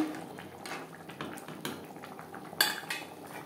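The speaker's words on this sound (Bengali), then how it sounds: "গ্রেভির সাথে গরম মশলা পাউডার বেশ ভালো করে মিক্সড করে দেব" Spoon scraping and clinking against a pot while garam masala powder is stirred into chicken and potato gravy, irregular close metallic scrapes and taps with a louder clank near the end, no voices.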